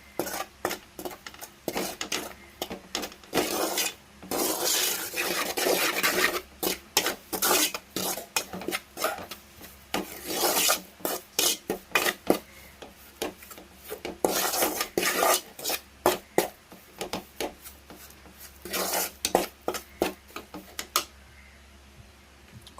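Roasted wheat flour and ghee are stirred in a metal pan, a ladle scraping and rasping against the bottom in rapid irregular strokes with metallic clinks, close and busy, no talk.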